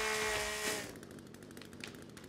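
A chainsaw cuts a tree at night in The Forest video game, a loud buzzing whine that cuts off after about a second, followed by faint rapid rattling clatter.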